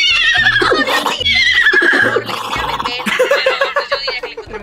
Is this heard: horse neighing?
yes